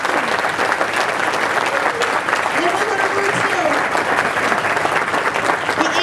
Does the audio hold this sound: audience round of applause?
yes